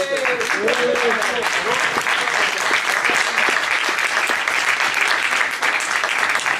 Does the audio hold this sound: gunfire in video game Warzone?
no